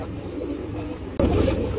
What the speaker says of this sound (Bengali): তো এই 2 পেয়ার আর্মি কবুতর, আরো কবুতর আছে সেগুলো দেখাই